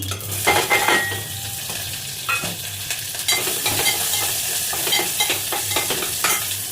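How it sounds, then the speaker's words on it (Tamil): Onion and curry leaves sizzle in hot oil in a pan, loud and close, while a spoon stirs and scrapes the pan again and again in the kitchen, with no talking. "அதுக்கடுத்து வெங்காயம் கருவேப்பிலை போடுறேன்."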